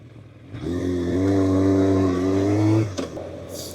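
A Yamaha FZR1000 motorcycle engine runs with a smooth, steady hum for a couple of seconds, fairly close, then cuts off abruptly.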